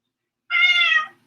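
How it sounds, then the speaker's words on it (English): A single cat meow, close and clear, rising and holding for under a second before fading, with no other sound around it. "Ah, my kitty cat. My beautiful, beautiful kitty cat, my Catherine."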